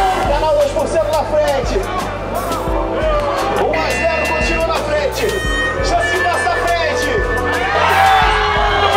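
Cheering supporters at a Game XP gaming event in Brazil, a dense crowd hubbub with whoops and shouts running continuously and loudly throughout.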